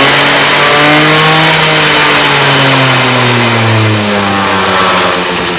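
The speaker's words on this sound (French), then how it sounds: "c'est un moteur qui gueule" A small two-stroke Peugeot 102 moped engine, tuned and without a variator, revs loudly and steadily, its buzzing pitch rising and falling slightly as it holds high revs close by.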